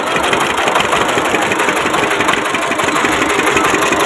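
Small engine of a sugarcane juice cart chugging at a steady idle, a loud continuous rattling drone with a fast, even pulse that stays constant throughout, with no clear voices.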